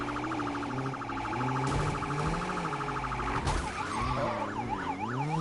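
Several police car sirens wail continuously in the Need for Speed racing game, overlapping rising and falling tones over a steady engine rumble, loud and sustained throughout.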